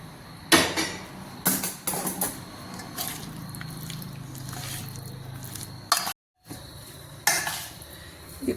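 A paneer tikka marinade is mixed with roasted gram flour in a bowl, giving several wet squelching and knocking bursts of stirring at an irregular pace. The sound is close and moderate and has a brief silent gap.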